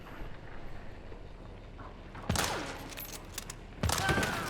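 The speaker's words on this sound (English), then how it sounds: "I shot twice, missed him, and he was looking the wrong way." Two loud gunshots fired at an enemy in the video game Hunt: Showdown, the first at about two seconds in and the second near the end, each with a long reverberant tail over quiet ambient background.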